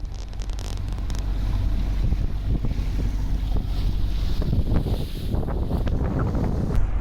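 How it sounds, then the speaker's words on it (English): Strong wind roars across a sailboat on the Limfjord in Denmark, around 15 to 16 knots from the southeast, with microphone buffeting, rushing water and waves slapping the hull, loud and continuous with no speech. "there is around 15-16 knots of wind coming from southeast"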